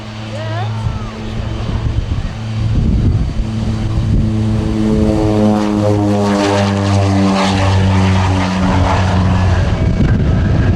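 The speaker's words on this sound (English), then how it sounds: "To 716 shaft horsepower Garrett turboprops." A North American Rockwell OV-10 Bronco with twin 716 shaft horsepower Garrett turboprops passes at an air festival, its loud propeller drone holding steady and shifting in pitch, with a commentator talking over it.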